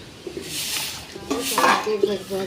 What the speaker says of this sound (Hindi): बर्तन माजने के लिए हम बालू चालते हैं, बर्तन माजेंगे चाल कर।